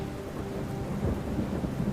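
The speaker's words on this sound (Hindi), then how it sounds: "आसमान में तेज गड़गड़ाहट हुई" Loud thunder rolls and rumbles across a stormy sky, with steady rain falling throughout and a heavier crack of rumble midway.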